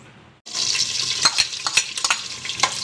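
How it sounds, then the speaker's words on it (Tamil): Cinnamon bark dropped into hot oil, a sudden bright sizzle that starts after a brief quiet moment and keeps crackling steadily, with scattered louder pops and stirring clinks, close and alone. "பட்டையை நம்ம எண்ணெயில் போட்டு"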